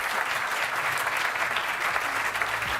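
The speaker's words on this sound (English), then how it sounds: "A round of applause, please, for our extremely brilliant panelists." An audience at the Destination Europe Summit 2025 applauds a panel of speakers as the session closes, with a full, even burst of clapping that continues steadily at moderate loudness.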